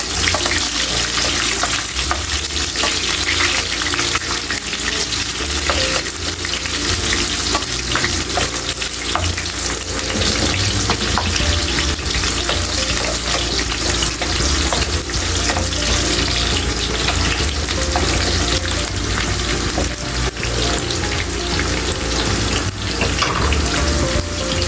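Chopped onions fry in a pan while cooking adobong sitaw, giving a steady, loud, dense sizzle that runs unbroken from start to finish, with no voices.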